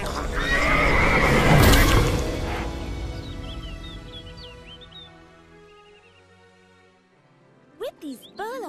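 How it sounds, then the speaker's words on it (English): A horse lets out a loud, long neigh up close, then after a quieter stretch with birds chirping, a few sharp shrill whinnies near the end; a voice speaks in places. "I will find your angel of death, King Kamsa, and crush him beneath my hooves"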